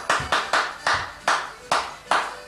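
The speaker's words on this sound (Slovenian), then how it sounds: "da zaploskamo" Hands clap in a slow, even rhythm, about six sharp claps a couple of seconds apart, close and clear, for a little child dancing at a home birthday party.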